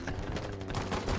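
Rapid gunfire from a video game shooter crackles densely and loudly throughout, a near-continuous burst of shots with no pauses.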